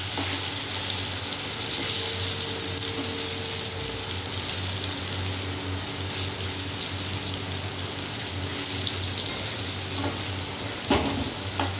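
Hilsa fish for a taro curry fries in a pan, giving a loud, steady sizzling hiss that runs unbroken with a brief clatter near the end.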